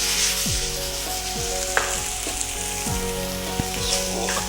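Cooked rice stir-fried with Schezwan and soy sauce for burnt garlic fried rice, a loud continuous sizzle with repeated tossing and scraping strokes over a steady stove hum, heard up close.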